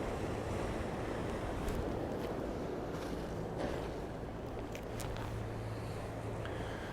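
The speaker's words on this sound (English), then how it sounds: "You can see though the sea is a little bit choppy, not too many boats out today" Choppy sea surging against the shore at Sant Elm, Mallorca, a constant washing roar with gusty wind buffeting the microphone.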